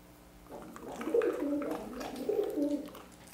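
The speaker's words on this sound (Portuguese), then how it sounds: "Pombo Pi. Sai daí." Pigeon cooing close by, two soft, throaty coos in quick succession over a quiet background.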